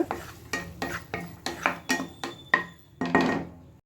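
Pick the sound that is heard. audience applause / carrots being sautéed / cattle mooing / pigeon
carrots being sautéed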